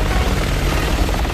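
Game helicopter from Resident Evil 6 thrumming continuously and close, a dense rotor roar at even loudness throughout, with no talk.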